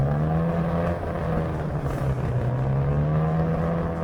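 An MGB classic car slides on a damp road, its engine droning loud and close at a steady pitch that slowly rises, with no voices.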